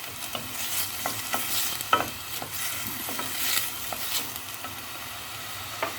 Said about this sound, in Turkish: Kıymayla kuyruğu da karıştırıp kavurabilirsiniz.